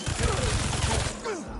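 Rapid automatic turret fire in the Spider-Man 2 video game, a dense loud burst of shots with a few higher whooshing effects layered over it.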